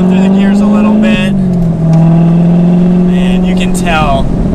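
A 2019 Chevrolet Corvette ZR1 engine revs up loudly and close, pitch climbing then dropping as it shifts through gears, with brief speech over it.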